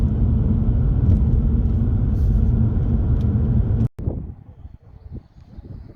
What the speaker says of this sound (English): there we have it, my first drive of my BMW 125D